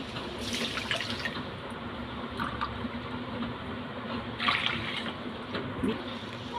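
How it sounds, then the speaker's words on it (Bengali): Water poured into a pan of 200 grams of sugar to make syrup for goja, a continuous soft splashing trickle heard close, with a few brighter gushes partway through. "এবার এর মধ্যে 200 গ্রাম জল দিয়ে দেব।"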